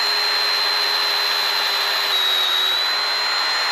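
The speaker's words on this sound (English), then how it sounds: "I'm going to take my 1/2 inch spade bit and I'm going to drill up at about a 45-degree angle" A drill bores into wood at about a 45-degree angle with a 1/2 inch spade bit while building a carpenter bee trap, a loud continuous whine with a high steady tone and no pauses or voices.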